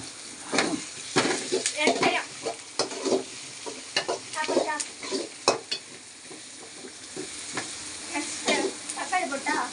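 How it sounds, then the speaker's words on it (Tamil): Food sautéing in a pan, quiet sizzling broken by repeated scraping and stirring strokes of a utensil at an uneven rhythm, with faint voices now and then in the background. "அப்படியே வதக்குமா"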